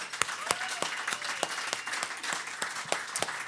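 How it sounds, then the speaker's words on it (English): Audience applause fills a live music show at the Rooster venue: scattered, close hand claps in an uneven, fairly sparse rhythm, steady for a few seconds with no talking. "Big round of applause for Terry Wickham"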